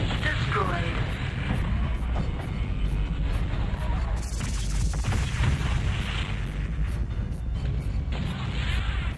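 Loud, dense combat din from the MechWarrior 2: Ghost Bear's Legacy video game as an enemy mech is destroyed, with booming blasts and explosive rumble running continuously, punctuated by sharper impacts and crackling bursts.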